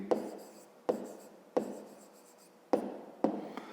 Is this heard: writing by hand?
yes